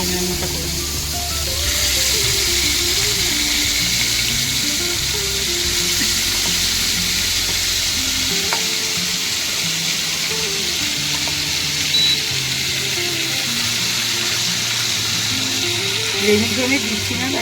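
Chicken marinated in yogurt and ginger-garlic paste frying in a pan for biryani, a loud, steady close sizzle throughout with occasional faint stirring, and a low hum underneath.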